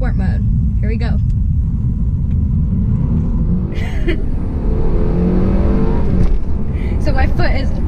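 A 2017 Mercedes-Benz E300 sedan under full throttle in sport mode, its engine a loud, steady rumble and rising drone heard from inside the cabin, with a voice talking over it.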